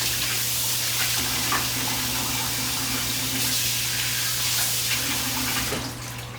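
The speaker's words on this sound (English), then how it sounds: "I'm gonna wash my hands again." Hands are washed under a running kitchen tap, a steady loud rush of water splashing into the sink with slight shifts as the hands move, close up, before the flow cuts at the end.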